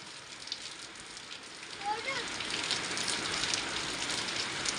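Rain pouring outdoors in a village, a continuous hiss that grows slightly heavier, with a faint voice briefly audible under it.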